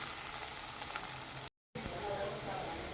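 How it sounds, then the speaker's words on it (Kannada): Garlic frying in a pan for a bhendi aloo masala fry, a steady broadband sizzle that holds evenly at moderate level, broken by a brief silent gap in the middle. "ನೋಡಿ, ಬೆಳ್ಳುಳ್ಳಿ ಫ್ರೈ ಆಗ್ತಾ ಇದೆ."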